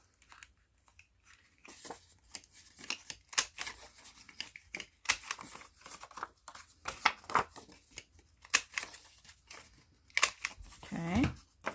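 A corner rounder punch snaps through paper and card corners at a craft desk, making a series of sharp, close crunching clicks scattered across the stretch, with some handling rustle between them.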